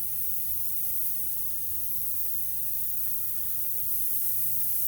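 An airbrush sprays paint in a steady, continuous hiss that stays close and even throughout, with no talking.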